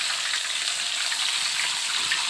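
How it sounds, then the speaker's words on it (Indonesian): Chicken-filled cireng, tapioca dumplings coated in rice flour, fry in hot oil with a steady, dense sizzle that stays loud and close throughout, with no voices. "di sini aku langsung goreng, setengahnya, sebagian aku goreng"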